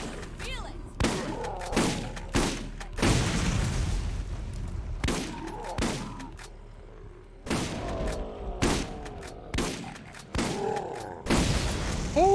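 Zombies exploding in Borderlands Game of the Year Enhanced: irregular heavy booms and bursts of gunfire, several loud thumping blasts spread across the stretch, with some in-game voices between them.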